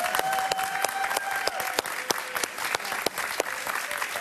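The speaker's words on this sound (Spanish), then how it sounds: "Un fuerte aplauso para ella." Studio audience applause for a guest journalist on a Miami talk show, steady clapping sustained throughout, fairly close and full.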